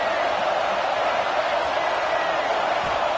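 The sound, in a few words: football stadium crowd cheering to help the defense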